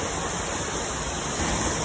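A heavy downpour in Sundarijal while out hiking gives a loud, dense, unbroken roar of rain with no other sounds.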